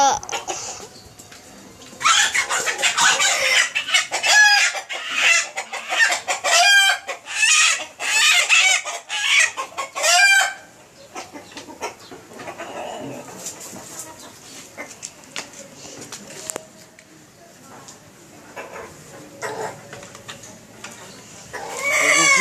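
A rooster crows and hens cluck loudly in rapid bursts, then the calls thin out to quieter, scattered clucks.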